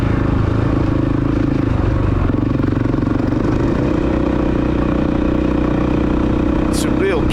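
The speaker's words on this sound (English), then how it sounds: "It's a real pleasure riding through this countryside" A Honda CRF300L dual-sport motorcycle rides a countryside trail in Northumberland, its engine a steady, loud, close drone of mid-pitched rumble with no break, under a voice.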